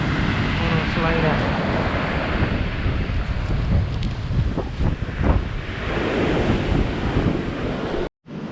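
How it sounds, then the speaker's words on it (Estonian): Ocean surf rolling onto a beach at a Spanish training camp, a steady broad wash of breaking waves with wind buffeting the microphone throughout, cutting off briefly near the end. "Mõnus laine."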